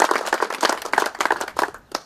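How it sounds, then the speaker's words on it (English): Applause from the audience at a Mass Golf amateur tournament trophy presentation, clear separate claps from a modest crowd coming in an uneven rhythm, fairly close and loud, with a short gap before a last clap. "How about a big round of applause for them here?"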